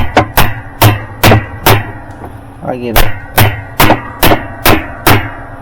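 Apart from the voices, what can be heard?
hammer tapping spanner wrench to tighten Maytag washer nut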